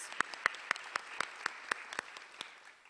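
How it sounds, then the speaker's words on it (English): Sparse, scattered clapping from a small audience at a lecture event, distinct individual claps in a loose rhythm that thins out toward the end, fairly faint and with no voices. "Round of applause."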